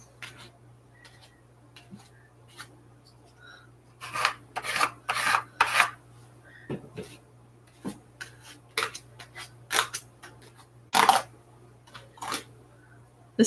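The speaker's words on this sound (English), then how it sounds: "Now I'm going to scrape this in my book." Scraping and rubbing lines into a paper book in a craft session, heard as a series of short rasping strokes, some in quick clusters, close and fairly loud over a steady low hum with no talk.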